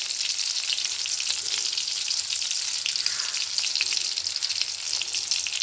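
Onion drops into hot oil after mustard seeds have popped, giving a steady bright sizzle with faint crackles and some stirring, fairly close and with no voices.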